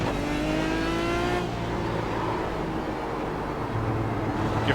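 An Aston Martin DBR9 GT1 in iRacing at the Nürburgring, its engine note rising in a quick rev before dropping back to a steady, loud drone, with no talking.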